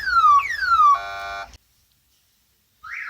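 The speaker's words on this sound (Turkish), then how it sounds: "Gördüğünüz gibi arabanın alarmı çalıyor." Car alarm siren cycling through tones: falling whoops, then a harsh buzzing blare, a pause of silence, and the wail starting again.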